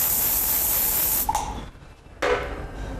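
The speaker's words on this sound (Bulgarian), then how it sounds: "Пръскаме спрей." Hairspray sprays onto teased, voluminous curled hair in a close, loud continuous hiss, pausing briefly and then a second shorter burst follows.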